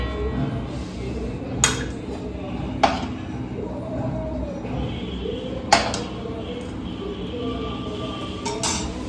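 Wheat-flour gulab jamun are served into small bowls, with four sharp clinks of dishes and utensils spaced a few seconds apart over a low, steady background.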